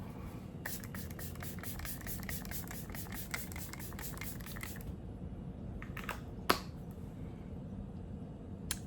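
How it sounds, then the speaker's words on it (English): A rapid series of short spritzes from a Rare Beauty hydrating mist spray bottle, close by, followed by a pause and then a few more separate sprays. "I'm gonna spray some of this hydrating mist, Rare Beauty hydrating mist on it"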